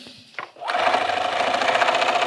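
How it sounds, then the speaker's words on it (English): After a brief click, a sewing machine starts up and runs steadily, stitching pinned quilt rows at a quarter-inch seam, with a fast even whirring rattle that stays loud and close. "So I've got my rows pinned together, and I'm just going to sew this now."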